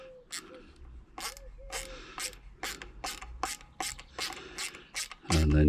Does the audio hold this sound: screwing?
yes